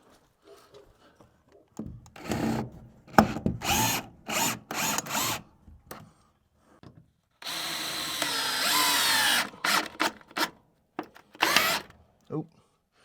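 A power drill drives screws into 2x4 lumber in short bursts, with one longer run near the middle, each whirring burst starting and stopping abruptly between quiet gaps and handling noise.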